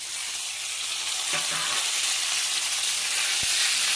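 Drumstick stalks tumble into potatoes frying in oil for a poppy-seed dish, with a steady, loud broadband sizzle throughout and a brief clatter of pieces landing partway through.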